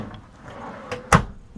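A single sharp thud of a kitchen drawer sliding shut inside a Winnebago Aspect motorhome, short and fairly close, preceded by quiet room noise and faint movement.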